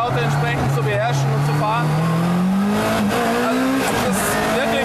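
A Lancia Delta S4 rally car with 550 hp and 890 kg is driven hard around a small driving-safety track, its engine rising in pitch as it accelerates and then changing gear, loud and continuous, with someone talking over it.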